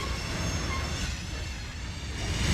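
A train passing in the rail simulation game Trainz, heard as a loud, steady rumbling roar of wheels and engine that fills the whole moment with little change.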